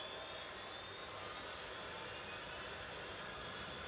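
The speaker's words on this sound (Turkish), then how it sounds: "Pilota söyle helikopteri çalıştırsın." A steady, loud mechanical whine and roar of an engine, continuous and even throughout, like a turbine-driven helicopter engine running up nearby.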